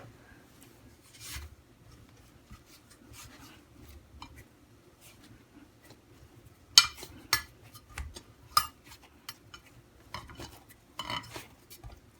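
Paratha dough of flour being kneaded stiff by hand, soft rubbing and pressing with scattered sharper slaps and knocks against the surface, close and fairly quiet with no talk.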